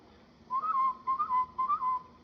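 Three short mouth-whistled bursts, each a wavering, slightly rising tone, repeat in a quick signalling pattern against a quiet room background.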